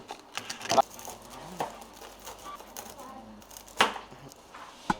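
A few sharp, crisp knife cuts through a crunchy fried pork cutlet on a board, spaced irregularly, with quiet gaps between strikes.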